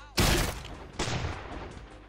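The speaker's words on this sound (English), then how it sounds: "Getting shot up by cannons." Two booming cannon blasts in the Roblox game Build a Boat for Treasure, the first loud and sharp, the second about a second later, each trailing off into a rumbling decay.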